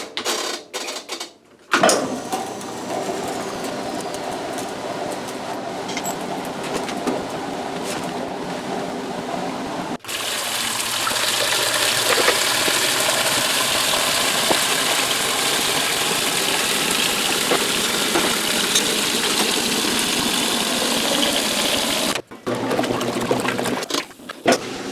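A Maytag washing machine, newly fitted with a replacement tub seal and sleeve bearing, runs its spin-dry cycle with a loud, steady mechanical whir. It cuts out briefly and then resumes even louder, continuous and close.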